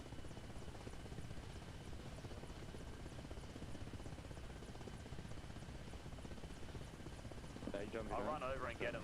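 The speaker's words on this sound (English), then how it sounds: "Get in the heli!" A helicopter in the Arma Reforger military game gives a steady, continuous rotor thrum throughout, with players talking over it near the end.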